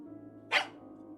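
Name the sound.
dog barking in the video game Tiny Bunny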